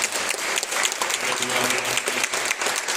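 A congregation at a Sunday communion worship service gives thanks to the church choir with hearty applause, a loud, dense burst of clapping from many hands that fills the room throughout.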